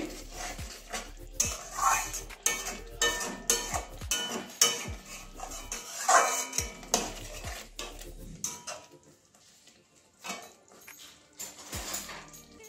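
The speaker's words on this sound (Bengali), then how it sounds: "তো আবার একটুখানি মিশিয়ে নিচ্ছি।" Spatula scraping and clinking in a wok as egg curry with green peas, garam masala and coriander leaves is stirred, giving irregular close metallic knocks and scrapes, with a brief quieter pause near the end.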